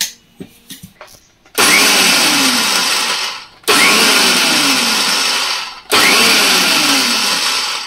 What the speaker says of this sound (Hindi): तिल को हमें ग्राइंड नहीं करना है ज़्यादा, सिर्फ दरदरा ही रखना है।